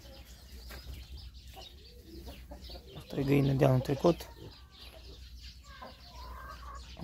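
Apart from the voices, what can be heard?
New Hampshire hens clucking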